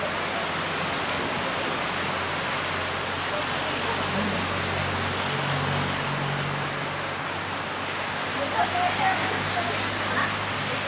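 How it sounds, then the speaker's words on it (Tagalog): Heavy rain pours down steadily as a broad, constant hiss in an outdoor setting, with voices talking under it and a dog barking faintly near the end. "Bumuhos na uli."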